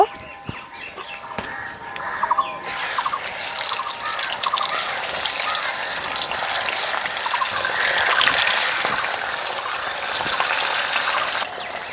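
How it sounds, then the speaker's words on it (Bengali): Bata fish frying in hot oil in a wok, a steady crackling sizzle that swells after the first couple of seconds and holds fairly loud and close throughout. "এখন মাছগুলোকে ভেজে নেব"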